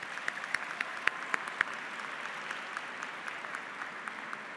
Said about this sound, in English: Seniors, please take a moment to offer your parents and families a round of applause for their support.